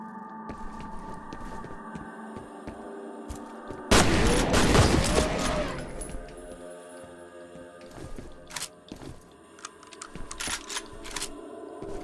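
A shotgun blasting in the video game F.E.A.R., one loud, heavy boom in the middle, surrounded by quieter game noise and clicking before and after.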